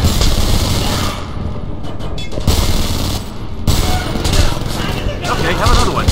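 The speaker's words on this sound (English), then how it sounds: "Give me some covering fire!" Covering gunfire in the shooter Homefront: a dense, continuous fusillade of automatic rifle and machine-gun fire, loud and close, with explosions and battle noise throughout and brief shouted voices.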